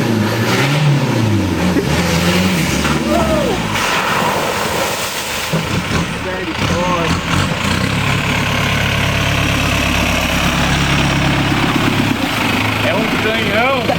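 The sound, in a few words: Engesa truck with MWM 2.8 engine revving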